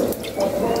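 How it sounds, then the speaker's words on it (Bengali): A little water splashing into a wok after dal has been scraped out of it, a short close pour under outdoor background noise. "কড়াইতে একটু পানি দিয়ে দিল"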